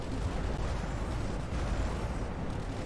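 Bombs detonating at an airbase in the strategy game ICBM: Escalation blend into a dense, continuous low rumble of overlapping blasts, loud and steady throughout with no talk.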